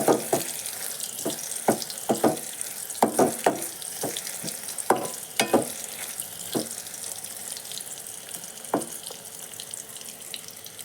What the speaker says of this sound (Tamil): நெய்யில் கட் பண்ணி வச்சுருக்கோம் தேங்காய் சேர்த்து நல்லா சிவந்து வர வரைக்கும் ஃப்ரை பண்ணி எடுத்துங்க